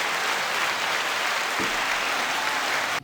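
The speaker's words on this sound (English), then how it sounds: "Give a round of applause for Max Sheldrick, everybody." Audience applause on a comedy podcast, a steady dense wash of clapping that holds evenly for about three seconds and then cuts off abruptly.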